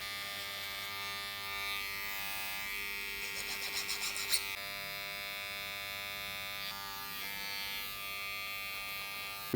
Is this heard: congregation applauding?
no